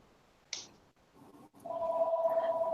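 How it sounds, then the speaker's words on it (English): A telephone rings indoors: after a brief click and a short quiet gap, a steady electronic ring tone starts and holds, fairly faint. "I got the phone ringing"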